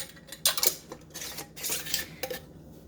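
A metal spoon clinks and scrapes inside a container while scooping saved bacon grease in a home kitchen, giving a few short, close, bright taps and scrapes with pauses between them.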